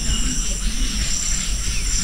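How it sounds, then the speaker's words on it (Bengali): Daytime crickets near the Gorumara Nest forest resort under a cloudy sky keep up a steady, unbroken high-pitched shrill chorus, with a low rumble beneath and no talking. "এখানে দেখুন দিনের বেলা কিন্তু দিব্যি ঝিঝি পোকার ডাক শোনা যাচ্ছে।"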